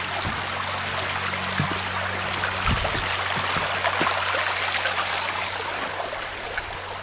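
A river flowing in the Catskill Mountains, heard as a steady, broadband rush and trickle of water throughout, with a few faint knocks and taps mixed in.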